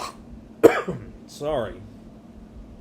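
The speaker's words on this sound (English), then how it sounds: "Excuse me for the coughing." A single sharp cough bursts out, followed by a short spoken word; a quiet room tone sits underneath.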